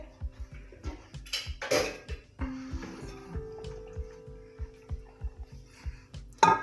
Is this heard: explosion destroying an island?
no